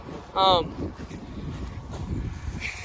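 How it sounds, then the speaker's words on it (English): Outdoor wind buffets a microphone in a field during weed clearing, a low, uneven rumble that surges and eases throughout, with a short tonal chirp near the start. "Sorry about the wind. I know it's windy"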